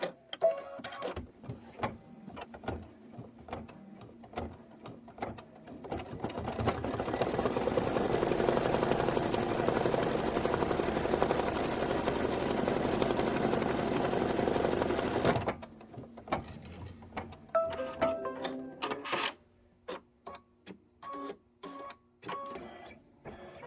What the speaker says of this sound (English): I'm just going to hit start. It's going to do the placement for the next fabric.